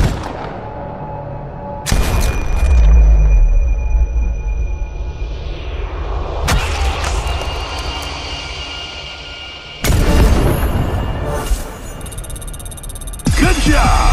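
Four loud, sharp sniper shots in the mobile shooter Sniper Fury, each ringing out into a long fading tail, spaced several seconds apart over a low rumbling ambience.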